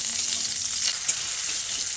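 Ginger, cashews and tomato halves frying in a pan, a steady close sizzle with soft crackle throughout and a brief stir or clink near the middle.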